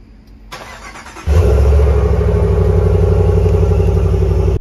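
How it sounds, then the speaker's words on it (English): A 2021 RAM 1500 Limited pickup's engine fires up by remote start, a quick crank followed by a loud, steady idle rumble that holds close and even to the end. "On the limited trim level, you also are getting remote start."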